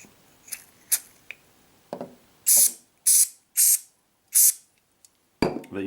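Several short, sharp bursts of aerosol lubricant spray hiss in quick succession, close by, separated by brief pauses and light clicks.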